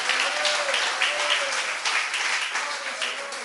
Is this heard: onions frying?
no